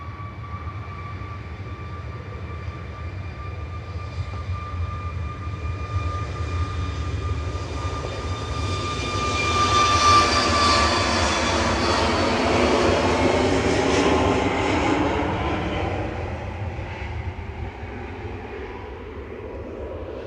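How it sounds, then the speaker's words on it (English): Shuttle 2 Kilo, an airliner arriving from Heathrow at Manchester, approaches with a steady whine that grows into a full engine roar peaking mid-clip, then slowly fades as it passes. "Here's Shuttle 2 Kilo coming in from Heathrow."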